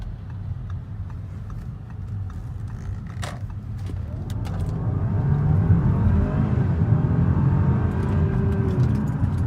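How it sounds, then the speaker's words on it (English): A 2013 Audi A6 3.0T accelerates after a right turn, its engine note swelling steadily louder and rising in pitch over a continuous broadband road and drivetrain roar, with no talk. "I'll take a right turn here and I'll accelerate for you so you can kind of see the capability of the A6"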